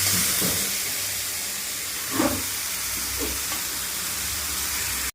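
Hot oil sizzling and hissing in a pan as a tadka tempering is cooked, a steady frying crackle with a few brief spits, no talk over it, cutting off abruptly at the end.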